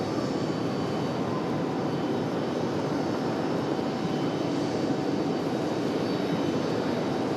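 An Aeromexico Connect airliner runs its engines nearby at an airport, giving a steady, broad jet roar that holds at an even, fairly loud level throughout with no talk over it.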